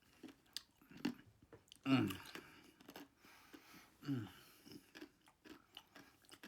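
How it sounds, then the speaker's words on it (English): Ice cubes from a Pepsi drink crunched between the teeth, a few sharp close bites scattered among softer chewing noises, with a voice talking quietly in between. "Gotta love ice, especially when you crunch on it"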